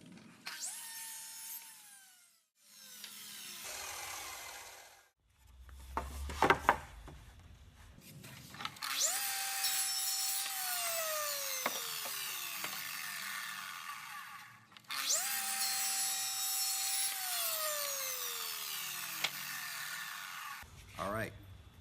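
A miter saw spins up and slices through cedar for mitered joints, two long loud cuts with whining motor and winding down, separated by handling noise and short pauses.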